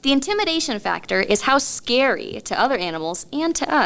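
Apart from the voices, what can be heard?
No everyday noise stands out behind the speech.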